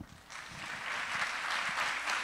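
An audience at a physics talk breaks into applause that swells quickly into a dense, steady wash of clapping from a roomful of people.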